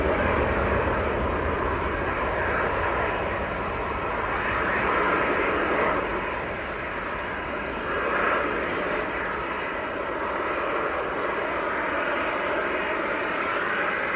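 A Ryanair airliner bound for Oslo at Manchester Airport makes a continuous, moderately loud jet roar that rises and falls gently as it passes, with no voices.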